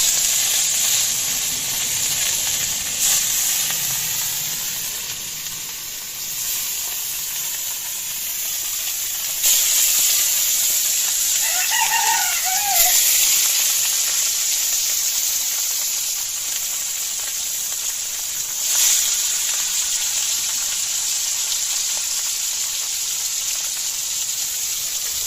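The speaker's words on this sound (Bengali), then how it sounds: "তেলটা কিন্তু খুব ভালো করে গরম হয়ে গেছে। এবার দিয়ে দিব এই মাখিয়ে রাখা মাছ।" Marinated katla fish pieces frying in well-heated oil give a loud, steady sizzle with hissing spatter that runs unbroken throughout, with no talking.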